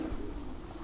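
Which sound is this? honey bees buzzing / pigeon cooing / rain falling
pigeon cooing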